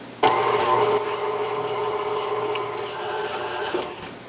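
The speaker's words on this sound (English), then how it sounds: "I'll just cream it using the mixer." A stand mixer fitted with a flex edge beater creams butter and sugar, its motor whirring in a steady, close hum for several seconds after starting abruptly.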